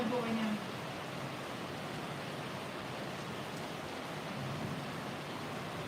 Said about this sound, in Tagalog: Lakas ng ulan dito ngayon, malakas.